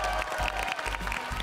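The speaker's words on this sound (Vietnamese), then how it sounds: "hãy vỗ tay thật lớn cho các huấn luyện viên của chúng ta" A crowd applauds the coaches at a children's football show, dense clapping that pulses in waves over a low booming background, with no talk over it.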